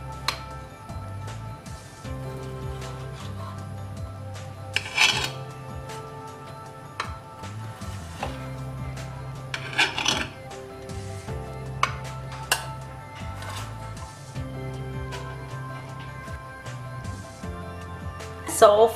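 Freshly steamed rava (semolina) idlis being loosened from a metal idli mould, giving scattered light clinks and scrapes of utensil on metal over a steady background hum, with a few sharper taps.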